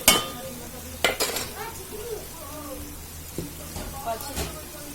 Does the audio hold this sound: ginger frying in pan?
yes